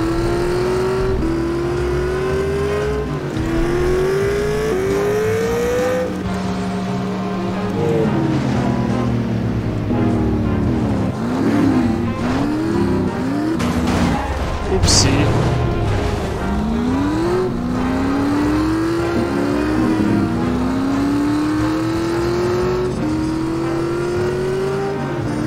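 Car engine in The Saboteur game, repeatedly revving up through gears with rising pitch sweeps, dropping, then climbing again, loud and close with road and wind noise, a brief crash-like burst midway.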